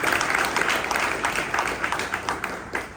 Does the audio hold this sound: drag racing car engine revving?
no